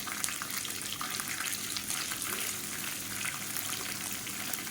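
Chana dal frying with sliced onions in a pan, a dense, continuous crackling sizzle heard up close at an even, steady level with no voices.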